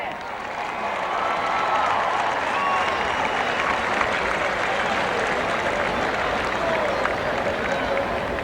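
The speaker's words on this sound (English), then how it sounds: "Come on, guys, let's cheer for him." A large crowd at a high school all-star football game applauds and cheers steadily, a dense wash of clapping and voices holding at an even loudness throughout.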